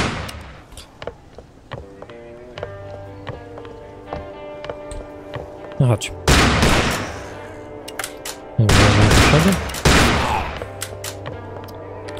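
Bursts of video-game gunfire ring out in rapid volleys, with scattered single shots and two loud sustained barrages, while game music and a brief voice sit underneath.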